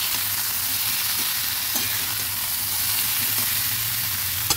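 Potatoes coated with salt and turmeric fry and get stirred in a pan for a ridge gourd poppy-seed dish, a dense, close sizzle with soft scraping strokes of the spatula, continuous and fairly loud, with no voices.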